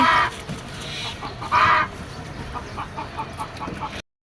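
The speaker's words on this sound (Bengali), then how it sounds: "ভেতরে আমার মুরগির খামার, মুরগি কলকল করছে।" Hens cluck in a rooftop chicken coop, a series of close, fairly loud clucks and squawks with a sharper burst near the middle, ending in sudden silence.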